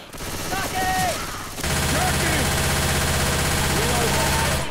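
Sustained automatic gunfire roars loudly in Left 4 Dead 2, a dense continuous burst that briefly dips and then resumes even harder, with a few faint in-game noises over the top.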